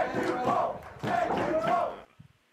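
Wrestling crowd cheering and chanting in two loud rhythmic bursts, then dropping off abruptly to near quiet.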